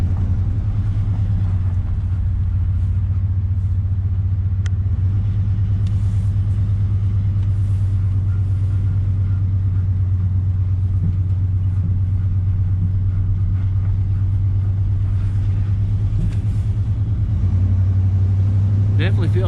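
A 1989 GMC service truck on a test drive, its engine a steady low rumble throughout, with a constant droning hum and faint road noise.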